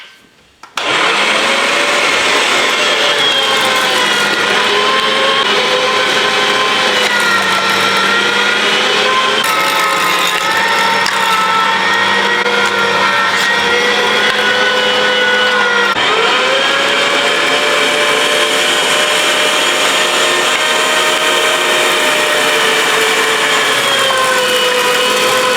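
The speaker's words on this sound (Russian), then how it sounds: "Так что так, перемалываем через вот такую сетку." An electric meat grinder mincing whole goby fish through a grinding plate runs loudly and steadily for the full length, a continuous motor whine with shifting tone as the fish feeds through, and no talking.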